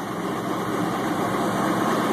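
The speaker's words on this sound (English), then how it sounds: "Fired right up. So I'm gonna let it run for a little while and then check for leaks." A Mercruiser 888 marine engine with an EFI conversion idles steadily after startup in a 1975 Marlin runabout, giving a continuous close rumble with an even, unbroken drone.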